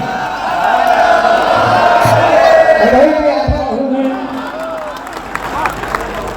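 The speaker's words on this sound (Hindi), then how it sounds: "यहाँ पे ताली बजाइए या महादेव करिए" At a comic poets' gathering at a Banaras fair, an audience chants and claps together, a loud dense crowd roar with scattered claps and cries, a few sharp hand hits near the end.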